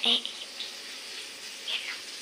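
Tap water runs into a bucket, a hissy splashing stream with a couple of brighter splashy bursts, close by and brief.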